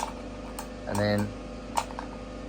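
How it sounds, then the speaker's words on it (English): A relay clicks inside a mobile dental unit as its foot pedal is pressed, a short close mechanical tick with brief buzzing, set among soft ticks and a few spoken words. "the noise you can hear is a relay"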